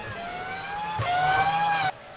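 F1 race cars in a racing video game at the Italian GP, with a close, loud, high-pitched engine whine that climbs steadily in pitch, then jumps as the car shifts gear and cuts off sharply near the end.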